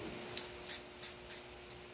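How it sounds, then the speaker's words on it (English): Short hissing bursts from an aerosol spray can, about five quick sprays in an even rhythm, close by with a faint background hum. "Go ahead and spray it on."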